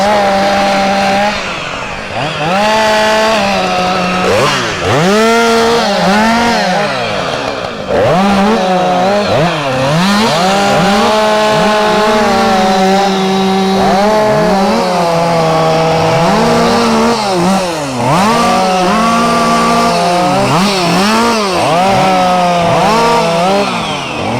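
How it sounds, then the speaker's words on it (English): Chainsaws roar continuously, their engines revving up and down in pitch as they bite through a felled tree, loud and close throughout. "And now they'll attack it with their chainsaws."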